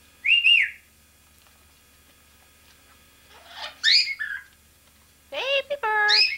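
A pet baby bird at home gives three separate bursts of chirps and rising whistles, fairly close and clear against a quiet room, with gaps of silence between them.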